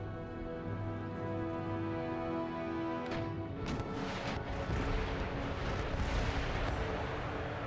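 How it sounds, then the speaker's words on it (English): Round shot fired by artillery in Empire Total War: a sustained rumble of distant cannon blasts and crackling impacts building over a low droning battlefield background and music, with no clear individual shots standing apart. "So artillery attack ground. Fire a round shot, because they should be in range there."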